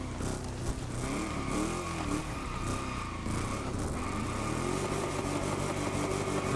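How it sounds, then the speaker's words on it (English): A heavy monster truck engine in The Crew Motorfest drones and revs continuously at steady volume, a thick rumbling vehicle sound with no pauses. "It's literally a monster truck."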